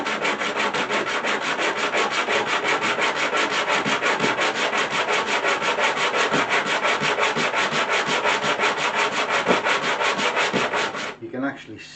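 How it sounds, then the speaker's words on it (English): A wooden block is rubbed back and forth on sandpaper stuck to a bench in fast, even rasping strokes, about four per second, close and loud for eleven seconds before it stops abruptly. "you can actually see where the high spots are and the low spots are on the sandpaper."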